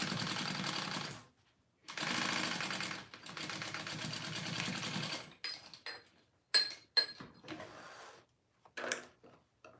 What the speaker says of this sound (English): let me stitch this back up real quick